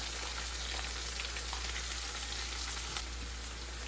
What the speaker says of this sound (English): So I put it inside my pepper mix that I frying